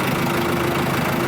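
A farm tractor, readied for sowing maize, idles close by with a steady, loud, even engine rumble and no talking.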